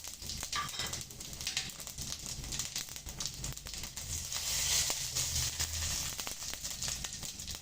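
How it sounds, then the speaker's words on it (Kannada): Cumin seeds frying in hot oil in a pan for jeera rice, a steady close sizzle with crackling and light popping that swells slightly midway, no voices. "ಇವಾಗ ಅದೇ ಇದಕ್ಕೇನೆ ನಾವು ಜೀರಿಗೆ ಹಾಕ್ಕೊಂಡು ಫ್ರೈ ಮಾಡ್ಕೊಳ್ಳೋಣ"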